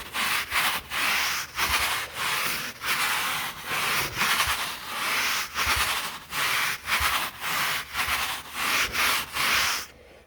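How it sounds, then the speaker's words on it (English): A brush is rubbed lightly back and forth across damp boat carpet, giving steady rhythmic scrubbing strokes, roughly two per second, close and fairly loud with no talking. "we're just going to take that brush and just lightly go back and forth across it, and this is fluffing the carpet on up a little more"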